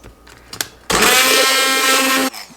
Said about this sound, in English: I'm going to try the immersion blender